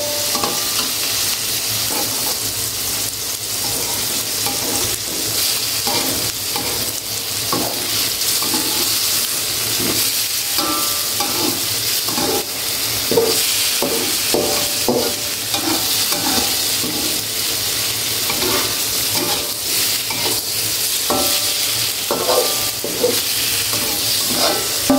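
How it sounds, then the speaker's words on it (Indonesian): Diced white tofu stir-fried in a pan, a steady, close sizzle with busy scraping and stirring clatter running throughout, no voices. "Aku mau masukin, jadi ditumis sebentar tahu putihnya"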